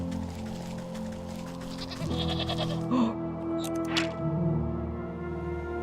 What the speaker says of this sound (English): mountain goat. You're so cute.